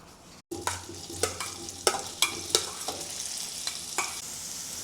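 Potatoes frying in oil in a pan for a Cantonese potato and minced pork stir fry, with a series of sharp scraping or tossing strikes over a steady close sizzle, no talking.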